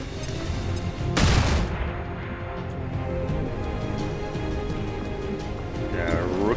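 A flashbang grenade bursts in XCOM 2, a sharp loud blast with a quick trailing crackle early on, followed by lingering game ambience and a fainter swooping effect near the end.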